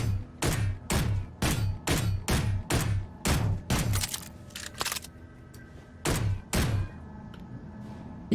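Rapid bursts of gunfire from a Space Engineers weapon shooting targets on an indoor range, a steady string of sharp, close shots in quick rhythm, a short pause, then two more shots.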